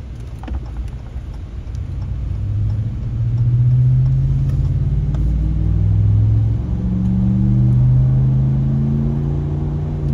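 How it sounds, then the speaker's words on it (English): A car fitted with a Flowmaster Signature Series muffler pulling onto a freeway, its exhaust a deep, steady rumble that climbs and dips in pitch as it accelerates, heard from inside the cabin with no talking. "Got a clean tone when on rev up. When you're getting to speed, it's clean."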